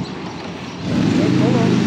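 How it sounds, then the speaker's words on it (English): A motorcycle passes on a New York street, a low engine rumble that swells louder partway through and holds near, over a busy background of city noise. "Sorry about the noise of the motorcycle"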